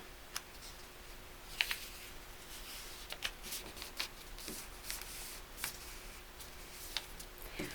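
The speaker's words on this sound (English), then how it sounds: "We're going to open this top triangle and then fold it down." Origami paper is folded and creased close by: soft crinkles and sharp little paper snaps at irregular moments over a steady low background hiss.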